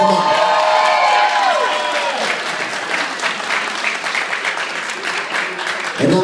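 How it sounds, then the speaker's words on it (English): At a 90th birthday party, an audience breaks into a loud, sustained round of applause with some cheering, voices rising over the clapping before it tapers off. "I'd like to know by a round of applause"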